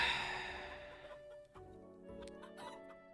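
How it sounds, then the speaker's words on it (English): Chickens clucking in the farming game Teddy's Haven, several short repeated clucks over a low game-music bed, fairly soft and steady with small bursts. "I also need to automate these chickens."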